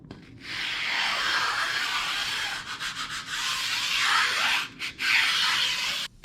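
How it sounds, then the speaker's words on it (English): A sanding block rubbed over the sharp corners of a wooden zero clearance insert, a close, steady scratchy rasp made of long strokes with a few brief pauses. "all I had to do was just slide this guy up a sanding block and just knock off the sharp corners on this"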